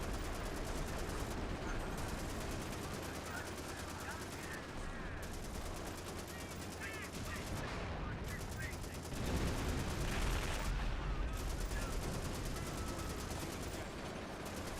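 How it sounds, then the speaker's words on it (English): Rockets firing and exploding in a co-op shooter video game, a continuous, fairly faint barrage of rapid shots and blasts with a voice talking over it. "Ah, the nice sound of rockets."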